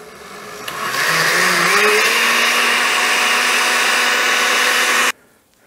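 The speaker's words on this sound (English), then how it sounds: "We like to use our Cuisinart blender," A Cuisinart kitchen blender whirs loudly and steadily for several seconds, its motor pitch rising slightly as it gets up to speed, then stops abruptly.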